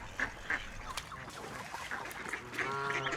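Geese honk in short, harsh bursts, several calls spaced irregularly at moderate distance, with a longer run of honks near the end over quiet outdoor background.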